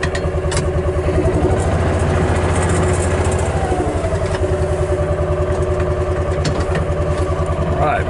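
A small engine idles steadily after a cold start using the choke, a loud, even rhythmic putter running throughout with brief voice moments over it.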